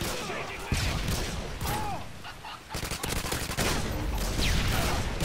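Rapid gunfire bursts from an online match of the video game Modern Warfare 2, crackling and near, with repeated volleys and mechanical clatter running under game noise and a player's occasional voice.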